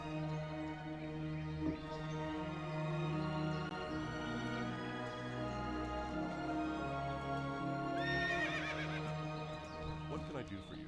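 A horse neighs and whinnies in World of Warcraft while hooves clip-clop softly, layered over a sustained in-game music bed, with someone talking over the scene.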